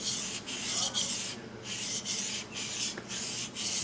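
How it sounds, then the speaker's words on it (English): A knife edge rubbed on a sharpening stone, refining scratches left by a DMT diamond plate, makes steady back-and-forth rasping strokes, about two per second, close and clear with no voices. "All I'm really using the stone for, to be honest, is just to refine the scratches left from the DMT"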